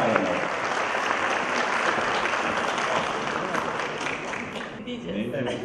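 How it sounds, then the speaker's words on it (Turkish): Loud, dense applause from a theatre festival audience in Bilecik during a plaque presentation, steady throughout and tapering slightly at the close, with faint voices underneath. "Tekrar güçlü alkışlarınızla tiyatro plaketimiz takdim ediliyor efendim."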